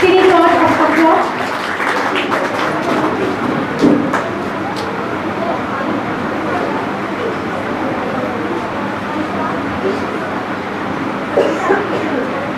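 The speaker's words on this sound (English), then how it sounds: "Please use round of applause" Applause from an audience at a school prize distribution, a crowd clapping briefly near and loud, then a long murmur of voices and hall noise, with a few scattered claps later.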